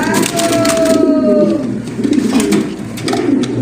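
A pair of fancy Shouking pigeons, a male and a female kept with eggs, coo loudly and close up in a series of soft, throaty, rolling calls.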